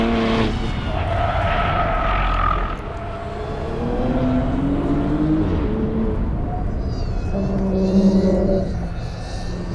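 A Porsche Panamera 4 Hybrid pushed hard through track corners, its engine note rising and falling in loud, continuous sweeps with whining pitch changes as it accelerates out of bends, close and unbroken, with no talking.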